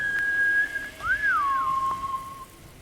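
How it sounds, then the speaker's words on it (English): A character in the Ghost of Tsushima video game whistles a clear, sustained tone that breaks, glides up and back down, then settles lower and fades over faint game ambience. "his whistle doesn't last as long as his mouth is open"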